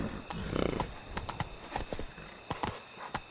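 Roach, Geralt's horse in The Witcher 3: Blood and Wine, trots with clear irregular hoof clops, close and fairly loud, with a brief snort-like burst near the start.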